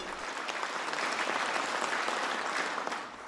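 A business forum audience during a presidential state visit to China breaks into sustained applause, a full, even roar of many hands that holds steady throughout.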